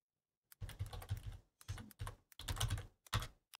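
Computer keyboard typing in short clustered bursts separated by brief pauses, close and clear with no voices.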